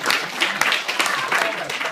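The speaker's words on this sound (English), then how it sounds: "Round of applause." Wedding guests applaud during the speeches, a thick, steady wash of clapping from the room with faint voices mixed in.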